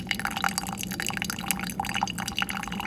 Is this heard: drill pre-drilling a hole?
no